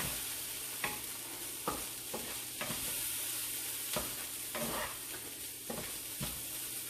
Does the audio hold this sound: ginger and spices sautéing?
yes